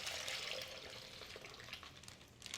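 Brine of salt, sugar and water pours steadily into a bag, a continuous close liquid splash and trickle with no talk.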